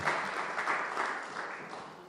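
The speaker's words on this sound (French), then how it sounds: "let's give the Lord a clap" A church congregation applauds the Lord during a bilingual service, a dense, even wash of many hands clapping together at moderate volume, with faint voices beneath.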